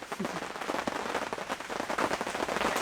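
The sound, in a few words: rain falling on tent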